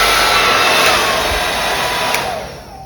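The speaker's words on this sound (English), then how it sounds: "this hair dryer is very slight, only 285 grams" A mini portable travel hair dryer weighing 285 grams runs close by with a steady, loud airy whoosh and motor whine, then winds down toward the end, with no talk over it.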